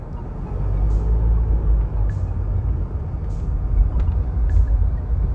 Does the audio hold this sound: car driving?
yes